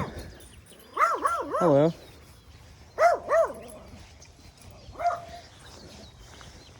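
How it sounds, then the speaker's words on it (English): An angry dog barks in a California suburb near a river: a quick burst of several sharp, close barks, a second pair, then one more, with a brief spoken greeting and quiet outdoor background. "There's a really angry dog."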